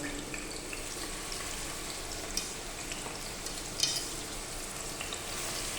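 Chopped onion with garlic and ginger paste frying in a pan while being stirred for a chicken and potato curry, a steady soft sizzle with occasional sharper scrapes and clicks of the spoon.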